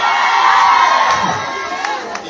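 Outdoor crowd at a Pasig house-to-house campaign rally and caucus shouting and cheering loudly, with whoops and children's shrill voices rising in a sustained roar that eases slightly toward the end.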